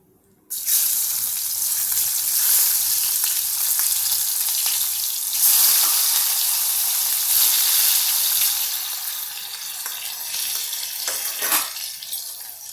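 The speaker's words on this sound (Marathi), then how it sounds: "आता यामध्ये मी थोडा कांदा घालते." Chopped onion lands in hot oil seasoned with asafoetida for a spicy chilli curry, bursting into a loud, hissing sizzle that holds steady, then eases slightly with a few stirring clinks near the end.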